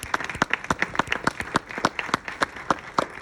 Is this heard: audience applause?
yes